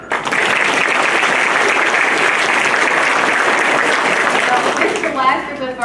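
An audience at a first grade school play breaks into loud, sustained applause that fills the room steadily, thinning slightly near the end as a voice starts to come through.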